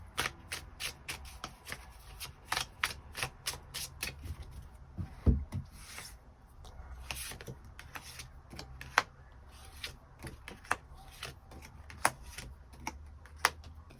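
Tarot cards are shuffled and drawn at close range, giving a quiet run of rapid, crisp riffling snaps and flicks in short bursts, with no voices.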